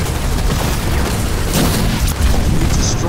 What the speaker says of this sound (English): Destroyed an enemy structure.